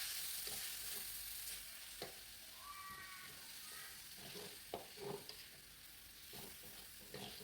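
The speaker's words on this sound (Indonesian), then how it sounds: "Udah kering ditumis-tumis. Kemudian saya masukkan dagingnya." Meat stirred and sizzling in a frying pan with sautéed spice paste, a steady close hiss of frying broken by scraping and clatter from the stirring, with no talk.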